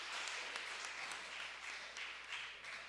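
Audience applause at a Tamil debate on hard work versus divine grace, a steady wash of many hands clapping throughout, moderately distant and fairly quiet, with no talk.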